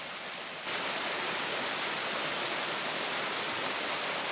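Waterfall in the Peak District, a steady broadband rush of falling water that swells louder after the first moment and holds constant, close and alone.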